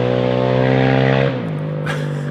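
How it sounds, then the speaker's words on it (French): A loud engine pass close by amid noisy street traffic, its strong harmonic drone holding steady, then dropping abruptly in pitch and fading as it moves away, with a brief hiss of traffic after. "je sais pas si vous l'entendez en moto, mais c'est assez bruyant ici"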